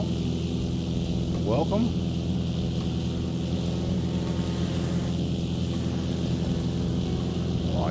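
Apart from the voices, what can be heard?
small aircraft flying overhead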